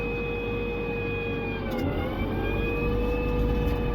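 A Challenger MT765C tractor idles after a cold start in winter, giving a steady, loud, droning engine hum with a slight dip in pitch partway through and no talking.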